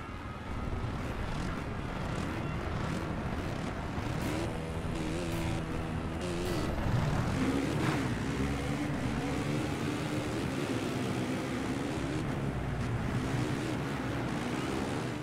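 Motocross bike engines from the MXGP video game roar together at the race start, a dense, steady, loud buzzing drone of many engines with shifting pitch sweeps throughout and no voices.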